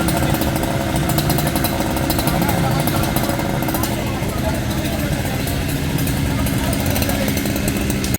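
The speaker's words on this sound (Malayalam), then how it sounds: "തിരൂർ ഫയർഫോഴ്സ് എത്തി മരം മുറിച്ചു മാറ്റി" A chainsaw cuts through a large fallen cashew tree that has come down across a road onto an electric line, worked by a fire and rescue crew; the engine roars loud and steady throughout, with voices faintly underneath.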